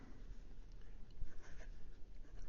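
A Leonardo Officina Italiana Furore fountain pen writes on Clairefontaine 90 GSM paper, giving a faint, close, soft scratching of the nib gliding in short strokes over a low background hum.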